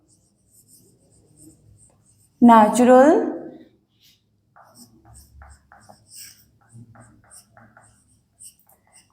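Marker or chalk strokes on a board during a biology lecture, faint scattered scratches following a brief spoken word from the teacher.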